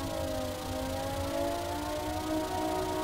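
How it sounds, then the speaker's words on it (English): An air raid siren wails steadily in the Stormworks ship game, a continuous, droning tone that rises slowly in pitch and holds loud throughout. "we have an air raid siren going off."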